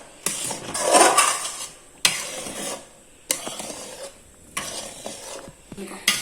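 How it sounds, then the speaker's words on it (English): Full-fat milk thickening in a pan for kesar malai kulfi: a spoon scrapes around the pan in repeated strokes, each stroke a sharp scrape followed by a soft bubbling sizzle, close up and without talk. "We have to stir it continuously in this stage."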